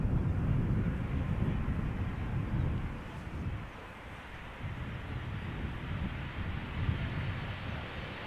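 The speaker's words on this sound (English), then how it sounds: "that is a 777-300 ER arriving from Vancouver in the background" A Boeing 777-300ER airliner arriving from Vancouver at Amsterdam Schiphol Airport, a broad low engine roar that is loud at first, dips midway and continues more softly, with wind buffeting the microphone.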